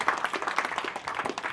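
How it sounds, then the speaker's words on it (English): An audience claps and applauds for John Cooper during an evening ministry show, a brief burst of dense, scattered hand claps heard close and fairly loud. "Let's give it up for John Cooper again."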